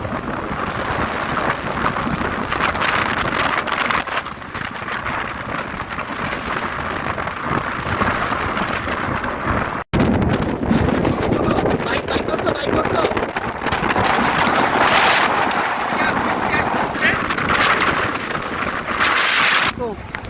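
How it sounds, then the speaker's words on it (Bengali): Strong wind roars steadily throughout a storm, mixed with heavy rain hiss and gusty surges, loud and close, with brief breaks in between, at Patul wetland in Natore, Bangladesh. "বাতাসটা কমছে।"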